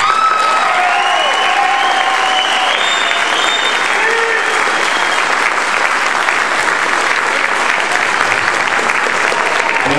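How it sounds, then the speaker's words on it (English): Sustained audience applause after a Christmas school band concert at a high school, a dense, steady roar of clapping hands filling the hall for the whole stretch, with a few faint cheers and whistles mixed in near the start. "Children deserve another round of applause."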